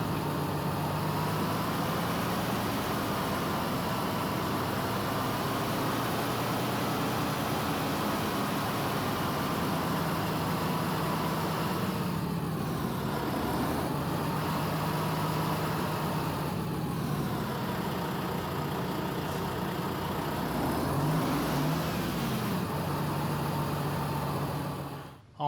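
Steady low engine drone and road rumble inside a truck driving at night, a continuous muffled hum with slight shifts in pitch as it travels.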